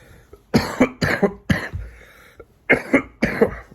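A person coughs repeatedly in close bursts, several harsh coughs in two clusters separated by a short pause.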